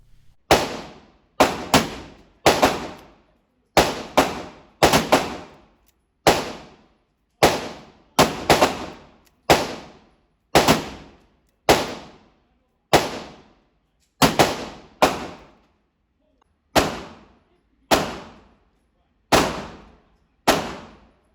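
Heritage Rough Rider .22 revolver fired outdoors: about twenty sharp, loud single shots, each ringing briefly, spaced roughly a second apart with a few quicker pairs and short pauses.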